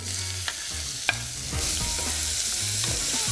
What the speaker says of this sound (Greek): Ρίξω το κρεμμύδι.